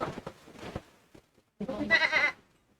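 A goat bleats in two bursts, a shorter wavering call followed by a pause and then a louder, longer strained cry, fairly close with no other sound around it.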